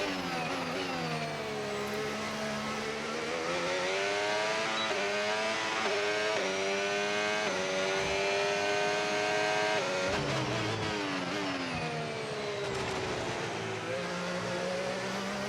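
A race car at speed on a qualifying lap, its engine loud and continuous with rising and falling revs through gear changes and downshifts for corners, from an onboard position.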